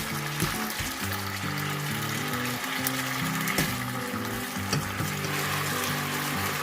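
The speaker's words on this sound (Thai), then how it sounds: "ก็ผัดเส้นไปเรื่อยๆ จนกว่าเส้นจะสุกนะคะ" Rice noodles stir-frying with chicken and soy sauce in a hot pan, a steady close sizzle with scraping stirs and occasional clinks of the spatula, with no talking.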